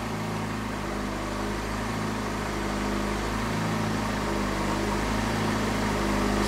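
A Fiat Palio Fire engine with an idle stepper motor circuit fault runs at idle in a workshop, a steady mechanical drone with a faint, slow rise and fall in revs, heard alone at moderate volume.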